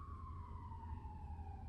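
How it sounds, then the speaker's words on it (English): A distant emergency siren wails steadily, its tone sliding slowly downward, faint against a low background rumble. "You hear that siren?"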